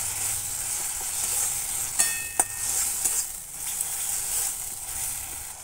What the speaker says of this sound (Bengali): এই মশলা আমি ভালোভাবে কষিয়ে নিয়েছি